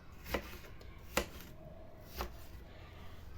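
Three separate knife chops strike a cutting board as mushrooms are cut into quarters. The thuds are faint and spaced about a second apart against quiet background noise.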